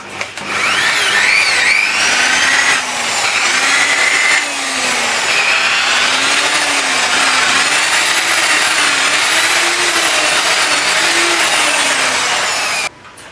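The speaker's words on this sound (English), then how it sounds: "I'm just using a pad with a bit of polishing compound on it." A polishing pad loaded with compound buffs the body of a 1969 XW Ford Falcon under restoration, a loud, steady machine whine with a slowly wavering pitch that runs throughout and cuts off near the end.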